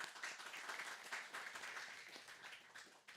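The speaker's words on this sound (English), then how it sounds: "Please give a big round of applause." Faint applause from a modest audience at a Gita Wisdom lecture gathering, a steady wash of clapping lasting a few seconds, distant and soft with no clear voices.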